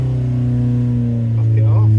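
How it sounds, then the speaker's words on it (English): A Triumph TR6 engine with mechanical fuel injection holds a steady, loud idle drone close by, and its pitch starts to climb at the very end as the revs come up. "Let's give this a quick wind up."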